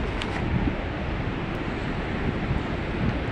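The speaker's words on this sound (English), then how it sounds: "You can hear the roar of the Connecticut River." The Connecticut River at Riverside Park in South Hadley, Massachusetts, gives off a steady broadband roar, continuous and fairly loud, mixed with outdoor wind noise and no voices.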